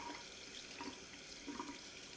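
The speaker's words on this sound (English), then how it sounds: "I'm just gonna rinse them off." Tap water runs steadily into a sink as hands are rinsed, a soft, even splashing hiss, close and fairly quiet, with no talking.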